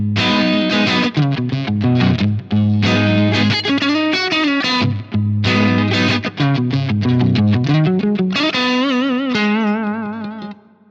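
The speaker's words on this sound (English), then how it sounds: "I think the JTM45 is super underrated as a clean amp, so I'll dial in some clean sounds with my Strat." A Stratocaster on its neck pickup played clean through an Axe-Fx III JTM45 amp model, loud melodic phrases of picked notes and chords with a gentle ambient tail, ending on a long ringing note that fades out.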